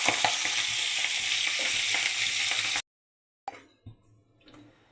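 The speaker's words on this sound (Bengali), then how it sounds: "বেশি তেলে ভালো করে ভেজে নিতে হবে" Catla fish head pieces deep-frying in plenty of oil, a dense close crackling sizzle that cuts off abruptly, followed by a few faint knocks and quiet rustle.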